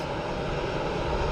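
ATR turboprop airliner arriving at Dublin Airport, a steady, fairly distant engine drone held at even loudness throughout, with no voices.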